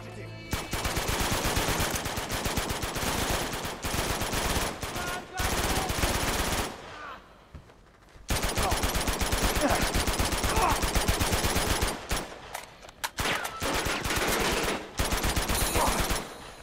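Rapid bursts of automatic gunfire in the video game Uncharted 2, loud and dense, broken by a few short pauses.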